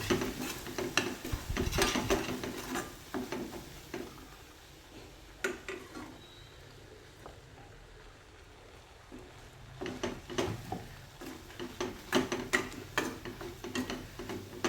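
Dry masala of coconut and sesame stirred and sautéed in oil for Gujarati undhiyu, with soft scraping and clinking of a spoon against the pan in irregular bursts, quieter in the middle, no talking.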